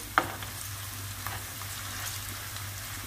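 Chopped onion and tomato paste fry in a pan, giving a soft continuous sizzle with a faint low hum beneath and one sharp clink near the start, heard close with no voices.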